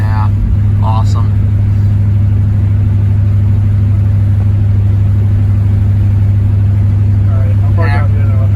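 A 1968 Pontiac Tempest's engine rumbles steadily from inside the car during a ride, a deep, even drone that dominates throughout, with brief faint voices near the start and end.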